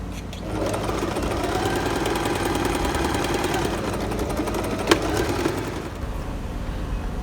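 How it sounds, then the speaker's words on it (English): A sewing machine steadily stitching the facing of a halter neck dress, a close, continuous mechanical whir with rapid needle rhythm and one sharp click near the end. "I've sewn my facing"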